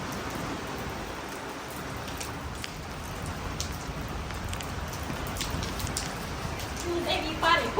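Rain falls steadily on a village home as gusting wind shifts it about, a close, even patter on surfaces with a few louder splashes and clatter near the end.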